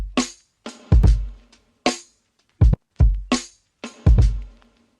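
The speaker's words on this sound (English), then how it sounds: "I also added some snares that kind of double up, and I put a bunch of reverb on it, faded one to the left, one to the right." Doubled snare hits drenched in reverb, part of a lofi beat, land in a loose, uneven pattern. Each crack is sharp and loud and fades into a washy tail, with short silences between the strikes.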